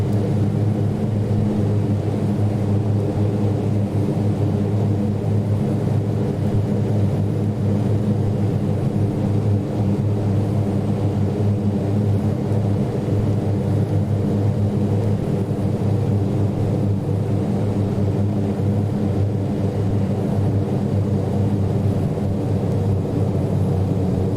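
Steady engine drone from a King Air turboprop in the Prepar3D flight simulator, landing on runway 26 at Innsbruck in the Alps, a continuous low hum with no talk over it.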